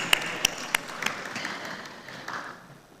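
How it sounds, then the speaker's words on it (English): A conference audience at Global Tech Africa 2024 applauds a panelist; a few sharp, distinct claps ring out first, then a softer spread of clapping tapers off within a few seconds. "A resounding round of applause"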